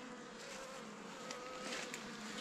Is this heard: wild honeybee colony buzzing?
yes